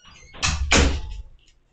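A door being opened indoors gives two close, brief scraping whooshes with a clunk, fairly near and moderately loud, fading into quiet afterward.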